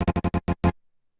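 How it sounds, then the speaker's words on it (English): Glitch effect built by granular repetition of a slowed initial sound section. Six rapid, loud stuttering bursts in quick succession cut off abruptly, then a brief near-silence with a faint low blip at the end. "So it's like a granular effect."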